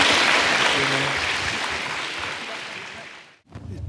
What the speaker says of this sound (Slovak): Tak poprosím potlesk pre repáňovcov